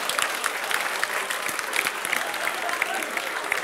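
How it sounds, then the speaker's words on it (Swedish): Steady applause from an audience at a science slam, dense clapping that fills the whole stretch at an even, fairly loud level. "vi får en applåd"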